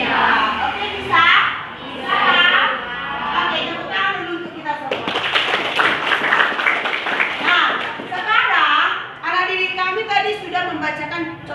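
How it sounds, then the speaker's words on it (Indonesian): A classroom of students clapping hands together in applause, a busy burst of many hands that swells in the middle and then thins out, with children's voices chattering over and around it. "tepuk tangan dulu untuk kita semua"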